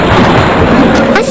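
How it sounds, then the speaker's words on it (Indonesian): A rain-and-thunder sound effect plays loud and close: a dense, rushing wash of rainfall with low rumbling underneath and a brief crackle near the end, with no voices. "Lalu turunlah hujan tersebut sampai ke bumi."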